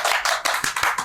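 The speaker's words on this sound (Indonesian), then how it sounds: "aduh boleh tepuk tangan" A few hands clap in a quick, uneven run of close, distinct slaps during a talk show opening, about five claps in one second.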